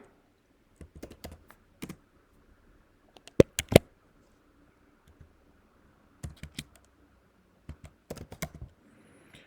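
Keys on an M1 MacBook keyboard are tapped in short, quiet bursts of light clicks separated by pauses, close up in an otherwise silent room.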